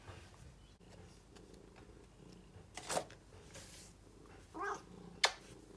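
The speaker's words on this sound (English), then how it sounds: "My cat has now joined us" A house cat nearby making soft purring and rustling sounds, with a few brief louder bursts as it moves around, over a quiet room background and no speech.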